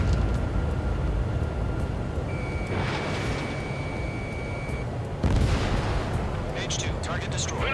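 Anti-aircraft guns pound in an Ace Combat 7 battle. A dense, continuous roar of gunfire and blasts fills the scene, with a thin steady tone partway through and a heavier burst of explosions toward the end.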